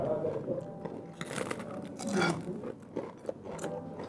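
Crispy roast chicken skin, served over a grilled leek in a Michelin-starred chef's restaurant, crunches under close bites and chewing, with irregular crackles and mouth sounds rising through the middle and breathy murmurs around them.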